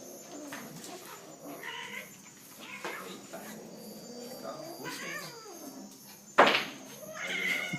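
A cat meows and caterwauls in drawn-out, wavering cries, with a sharp loud yowl near the end, set against a quiet background with faint bird calls.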